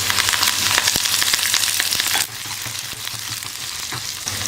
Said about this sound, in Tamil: வெங்காயம் நல்லா ப்ரௌன் கலரில் வர வரைக்கும் நல்லா வறுத்துக்கணும்